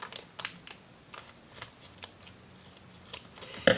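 Scissors snipping through fabric during a sewing repair, a series of quiet, crisp close-up cuts at an irregular rhythm, ending in a sharper snip.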